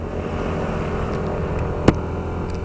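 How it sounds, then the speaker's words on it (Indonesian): Yamaha Nmax 155 scooter from 2019 climbing uphill, a steady droning engine hum with wind rush throughout and one brief sharp click near the end. "Coba kita untuk menanjak. Dipakai menanjak pun juga cukup enak."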